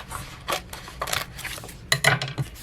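Scissors snip through craft vinyl in a few quick, crisp cuts with short pauses between them, close up and fairly loud.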